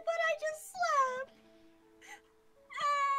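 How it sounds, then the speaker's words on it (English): A cat in the Minecraft video game meows several times in short whiny cries, moderately loud and close, with gaps of near silence between them. "I forgot you had a cat."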